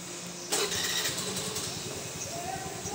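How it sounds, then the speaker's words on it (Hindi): A scooter engine catches with a sudden burst and then settles into a quick, buzzing idle close by, a faint voice murmuring underneath. "तो अभी मैंने शुरू कर दिया है मेरा स्कूटर"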